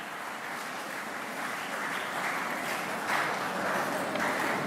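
An audience at a college commerce department conference claps steadily to welcome the chief guest, a broad, even patter that swells slightly toward the end with no voices over it.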